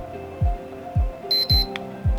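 A Walta Elite Hawk 151 smartwatch sounds its alert: four evenly spaced electronic beeps, each with a falling low thump, close and clear, with a brief higher chirp between them.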